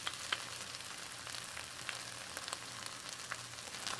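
Pieces of chicken with tomato paste sizzle quietly in a pan, a soft continuous crackle with small scattered pops, faint and even throughout with no voices.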